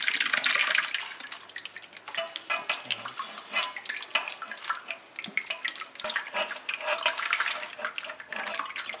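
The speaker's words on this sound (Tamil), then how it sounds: "கையில் வடிகட்ட முடியாது. அதனால் நம்ம என்ன பண்ணலாம், இந்த மாதிரி வடியில் வச்சு வடிச்சிடலாம்." Tamarind water is poured through a strainer in a kitchen while making temple-style puliyodharai, a continuous close splashing and trickling of liquid with small clinks of the utensils, heard alone without talk.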